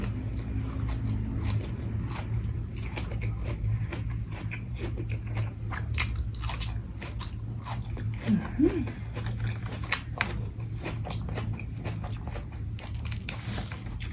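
Someone eats rice with sun-dried snakeskin gourami up close, with soft repeated chewing and smacking over a low steady background hum.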